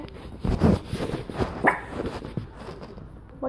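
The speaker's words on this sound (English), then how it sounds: "What are you barking at, doggy?" A pet dog, a puppy, barks and yips in short bursts indoors, a few sharp close calls scattered through the stretch with a brief whimpering edge.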